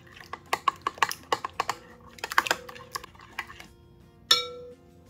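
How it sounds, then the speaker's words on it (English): A spoon or utensil clinks and scrapes against a bowl while pureed sweet potatoes are stirred for sweet potato dinner rolls, with a series of close, sharp taps, a short pause, more taps, and one louder ringing knock near the end. "Gonna give it a quick stir until it's well combined."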